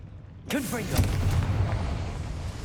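A Confringo blasting spell explodes in the Hogwarts Legacy game with a sudden loud boom, followed by a rumbling, crackling tail of debris over a low drone, while a voice is heard near the start.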